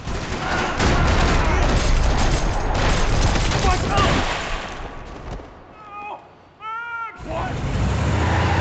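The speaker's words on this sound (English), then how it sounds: "Another parking lot rattling with gunfire." Dense bursts of gunfire in the video game Max Payne rattle continuously, loud and close, then break off briefly for a few tonal effects before the firing resumes.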